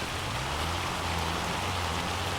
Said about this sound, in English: It's a pretty good storm.